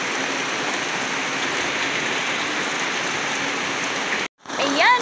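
Heavy rain pours in a dense, steady hiss close by, then cuts out abruptly for a moment before returning louder with a voice speaking over it.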